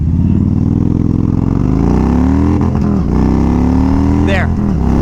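A large Kawasaki motorcycle accelerates hard from a standstill to 60 on a warm, dry road, its loud engine note climbing steadily in pitch through the gears. A voice cuts in briefly near the end.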